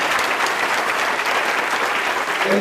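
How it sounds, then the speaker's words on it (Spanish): Dense, steady applause from a church congregation at a wedding service fills the space, a continuous wash of many hands clapping at close range with no talk over it. "Si le gustó el mensaje, le damos aplauso fuerte, pues."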